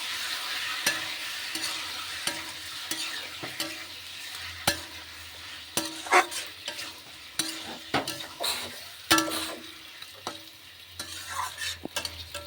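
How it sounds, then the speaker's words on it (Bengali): About a kilogram of fish frying in hot oil, a steady sizzle under repeated scraping and stirring strokes of a utensil against the pan, with scattered clinks. "তেল ছেড়ে গেলে আমি মাছগুলো দিয়ে নাড়াচাড়া করবো"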